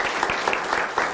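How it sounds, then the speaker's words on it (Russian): Brief applause from a student audience at a university gathering in Kazan, a short burst of clapping with a few distinct claps poking through, moderately loud and alone. "после ваших бурных аплодисментов, еще раз, которые прозвучат"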